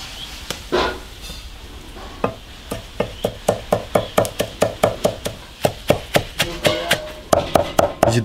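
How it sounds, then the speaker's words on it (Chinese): Cleaver chopping washed pagoda tree flowers on a board for dumpling filling, a steady run of sharp, close knocks that quicken into rapid, evenly spaced strikes. "把那花切碎，"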